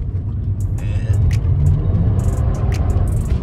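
A Nissan GT-R with a six-speed manual pulls hard in second gear, a loud, close, continuous engine roar and rumble that holds steady throughout.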